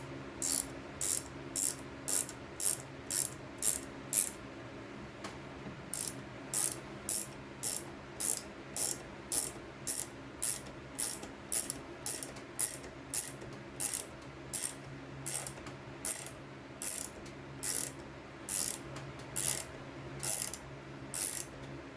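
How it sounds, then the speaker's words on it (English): A 9/16 wrench turns a brass air hose fitting, with a long series of quick ratcheting click bursts repeating in a steady rhythm. Brief pauses fall between strokes, and the sound is close and crisp, with no talking. "And then I've got a 9/16 wrench to turn this in"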